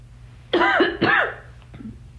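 A person with allergies coughs and clears their throat twice in quick succession, close and fairly loud, followed by a softer small catch of breath in an otherwise quiet room.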